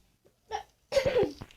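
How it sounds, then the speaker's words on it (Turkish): Two short, close coughs from one person, a brief first burst and then a longer, harsher one, with silence around them. "Ay öksürüyorum."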